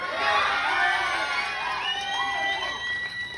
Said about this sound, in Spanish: ¡Aplauso para el Pepasaurio!